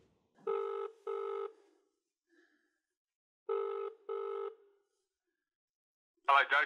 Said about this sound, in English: we got Christo to call him to ask him why he did that